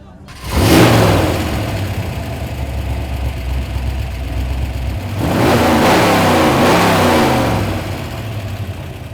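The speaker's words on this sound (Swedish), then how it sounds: "Och motorn är en Ford 427 kubikare" A Ford 427 V8 engine in a 1969 Volvo Amazon police car roars up to a loud rev, holds a rumbling idle, then revs again strongly before easing off, with a voice talking faintly.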